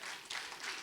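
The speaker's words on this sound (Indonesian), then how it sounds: "Berikan tepuk tangan bagi Tuhan." A church congregation claps during a sermon, a short burst of fairly faint, dense applause with no clear voices over it.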